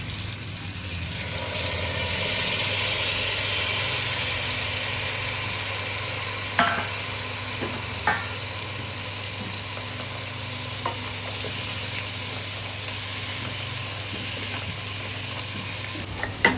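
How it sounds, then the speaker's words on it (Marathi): Crab pieces and large claws sizzle steadily while being stirred and fried in hot oil with spices, a continuous loud crackle with a few sharp clacks from the spoon and no talk. "आपण केलेले खेकडे आहे मग ते आणि जे काही उरलेले मोठे नांगे आहेत ते त्याच्यामध्ये टाकले ते तेलातच परतून घ्यायचे"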